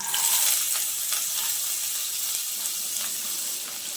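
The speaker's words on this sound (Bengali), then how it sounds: "তেলটা ভালোভাবে গরম হয়ে গেছে, এখন আমি পেঁয়াজ কুচিটা দিয়ে দিচ্ছি" Chopped onions dropped into hot mustard oil, making a bright, steady sizzle that starts strong and settles into a continuous crackling hiss close by.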